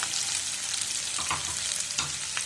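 Boiled potato pieces stirred through sizzling oil in a pan for a pepper fry, a steady close frying hiss with a few soft scraping strokes of the spoon, no voices.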